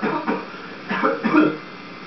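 A person coughs and clears their throat in a few short, close bursts, delivered in a somewhat exaggerated, playful way.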